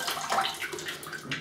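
Water splashing and trickling close up as drops are added to shaving soap, a short continuous wet pouring sound with no talking.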